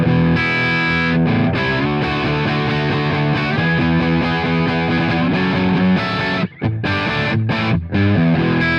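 Electric guitar played through a Mesa Boogie amp model with reverb switched off, heavily distorted and thick, ringing on continuously with sustained chords and notes and only brief gaps near the end.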